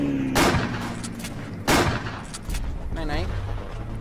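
Two sharp, loud rifle shots crack out about a second apart in the WW1 trench game Verdun, each with a short echoing tail, followed by quieter battlefield noise and a brief voice.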